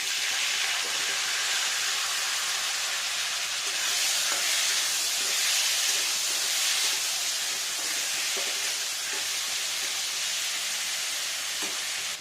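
Onion paste sizzling in a pan as it is cooked, a steady loud hiss and crackle that swells and eases, close up and without talk.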